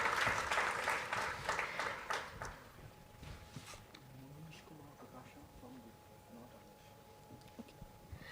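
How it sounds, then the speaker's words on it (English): Applause for a panelist at a panel discussion comes in as scattered, fairly faint clapping that dies away after about three seconds. Quiet room noise and low voices follow. "Can we please have a big round of applause"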